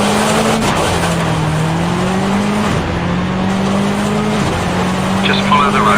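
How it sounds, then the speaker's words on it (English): Rally car engine in Richard Burns Rally, a steady droning tone that rises and dips with gear changes and throttle, loud and continuous, with faint tire noise near the end. "Start the car. Throttle carefully up to 50. You can stay in second gear for now."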